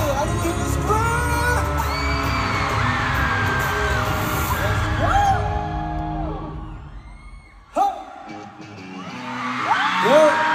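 A large concert crowd in Toronto screams and cheers loudly at a live tour show, a dense roar of whoops and yells that dips briefly, then swells again after a sharp bang.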